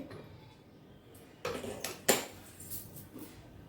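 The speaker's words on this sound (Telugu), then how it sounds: "పాన్లో నీళ్ళు పోసి ఖాళీ ప్లేట్ అడుగున ఒకటి పెట్టేసి ఇడ్లీ వేసుకున్న ప్లేట్లు ఇందులో పెట్టేసేయాలండి" Steel idli plates filled with batter being set into a pan of water, two clear metallic clinks about half a second apart, close and quiet, in an otherwise calm kitchen.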